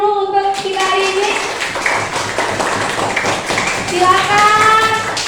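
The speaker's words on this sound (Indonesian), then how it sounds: "boleh tepuk tangan dulu untuk kita hari ini" Schoolchildren in a classroom clap their hands together in a rhythmic burst of taps, with children's voices chattering over it.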